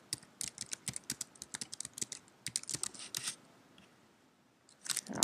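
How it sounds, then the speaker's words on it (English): Quick bursts of computer keyboard typing, close and crisp, a rapid run of keystrokes, a short pause, then a few more taps. "So I'll just type blah"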